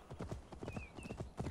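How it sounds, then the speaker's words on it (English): A reindeer mount's hooves trot at a steady quick rhythm of clip-clop beats in Assassin's Creed Valhalla, close and even, with faint tonal game sounds above. "Actually, this is a reindeer, not even an elk."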